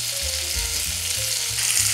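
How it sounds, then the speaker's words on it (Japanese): Onions frying in melted butter over medium heat for a miso beef stew, giving a steady close sizzle with low tonal hums and shifting crackle, no talk. "バターがねほとんど溶けたら玉ねぎを炒めていきます。"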